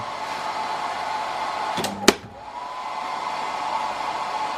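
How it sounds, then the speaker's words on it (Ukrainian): A hair dryer powered through an EcoFlow charging station blows with a steady whooshing drone, briefly interrupted by a couple of sharp clicks and a dip as power switches during a simulated outage, before resuming. "включаємо фен"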